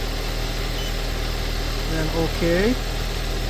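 A car engine idles steadily through a 12V battery and alternator charge test with a MOTOPOWER MP0515A tester, with a person talking over the low hum.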